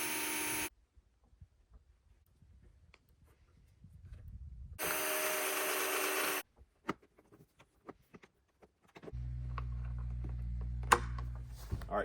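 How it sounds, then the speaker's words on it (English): Two bursts of a power drill whirring as it pre-drills into wood for an exterior sliding barn door, separated by quiet handling clicks and taps, then a lower-pitched driver grinding a screw in. "So I'm going to pre-drill that and screw it in."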